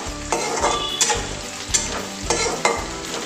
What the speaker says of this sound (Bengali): তেলের মধ্যে পেঁয়াজ কুচি দিচ্ছি, এখানে দুটো আছে মিডিয়াম সাইজের, আস্তে একটু ফুল করে দিলাম যাতে পেঁয়াজটা একটু ফ্রাই হয়।